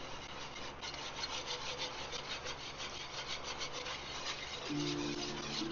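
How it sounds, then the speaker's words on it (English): A thick roux of oil and flour being stirred in a pot for Cajun chicken and sausage gumbo, with a continuous scraping, rubbing rasp of the spoon against the pot bottom. "You just add a little bit more oil, and just keep stirring."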